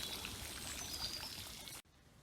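Water running off gilded bronze philodendron leaf sculptures in a garden pool, a steady close splashing pour that stops abruptly, leaving quiet outdoor ambience.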